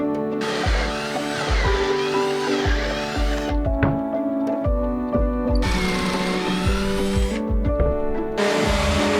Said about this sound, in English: I'm going to be using pocket holes to connect everything.